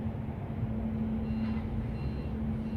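A loader reversing on a work site, giving a steady high tone that holds without a break over a low engine rumble and a constant hum.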